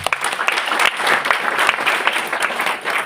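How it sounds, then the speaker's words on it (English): An expo audience applauds the chair at the Kenya Homes Expo, a dense, steady round of many hands clapping close by for about three seconds. "Let's give him a round of applause"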